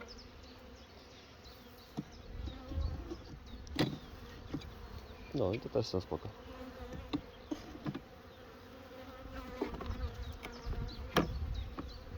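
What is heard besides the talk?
bees buzzing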